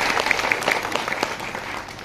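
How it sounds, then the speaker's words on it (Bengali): A theatre audience gives a short round of applause for two spectators: a brief, dense patter of many hands clapping at moderate volume, tapering off within about two seconds. "আমরা ওই দুজন দর্শকের জন্য একটা হাততালি দিতে চাই।"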